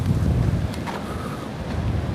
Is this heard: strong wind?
yes